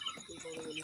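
Broiler chickens at about 28 days old cluck softly on a farm during weighing, a brief faint burst of fowl calls with a few nearby noises.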